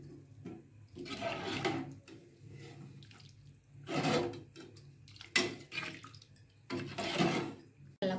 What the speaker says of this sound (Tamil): இப்போ இதில் 2 ஆழாக்கு தண்ணி ஊற்றிக்கலாம்.